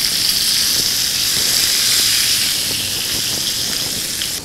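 Pomfret fish sizzling in hot oil in a pan just after being turned, a steady, fairly loud broadband hiss and crackle that continues throughout without talk.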